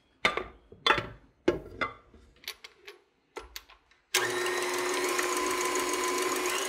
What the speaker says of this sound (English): And now put this on your mixer.